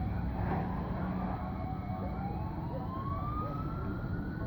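A faint emergency vehicle siren wails from a distance, one slow rising tone drawn out over a steady low rumble of road and engine noise.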